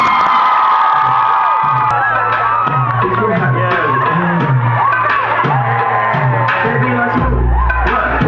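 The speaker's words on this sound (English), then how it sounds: "A round of applause for Don't Jealous." A loud crowd at a live comedy show cheers and whoops for a comedian, a dense, sustained roar of shouting voices with no break.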